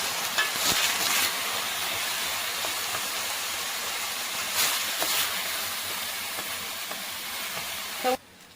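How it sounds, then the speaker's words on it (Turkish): Two glasses of rice toast in a pot over high heat for chickpea and meat-broth pilaf, giving a steady dry sizzle and stirring scrape with a few louder scraping bursts, then a sudden cutoff near the end. "Şimdi pirinçlerimi yüksek ateşte kavuruyorum."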